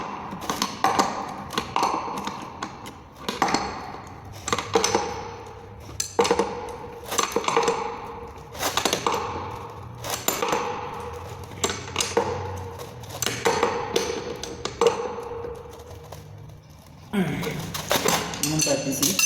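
Metal clinks and rhythmic ratcheting taps come from a wrench and pliers tightening a fitting, repeated clicks at a steady pace while someone talks nearby.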